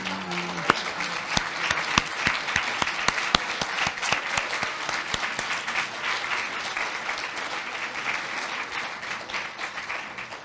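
An audience at a memorial lecture applauds LGBTQ elders as they stand, with a full, sustained wash of clapping and some sharper individual claps standing out near the start, loud and continuous throughout.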